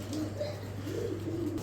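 Toy Lahori pigeons coo softly in a continuous, rolling series of low murmurs over a steady electrical hum.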